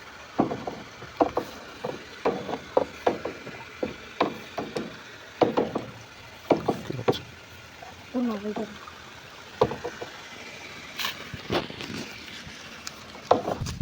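Fermenting cow dung slurry being stirred in a container, with repeated irregular wooden knocks and sloshing strokes throughout, at moderate volume with occasional background voices.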